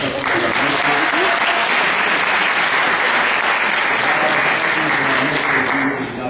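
Loud, sustained applause from a crowd, dense clapping filling the whole stretch with no pause.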